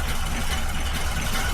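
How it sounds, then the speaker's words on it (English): A car engine held at wide open throttle gives a loud, steady, rough roar with a strong low rumble through the whole short stretch, with no talk. "That's wide open throttle, man."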